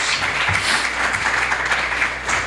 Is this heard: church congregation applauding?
yes